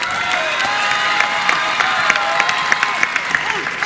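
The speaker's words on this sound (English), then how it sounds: "Give her a round of applause for all those accomplishments." Audience at a 2017 Marshall High School graduation ceremony in Fort Bend ISD applauding and cheering, a steady wash of clapping with scattered shouts and whoops throughout.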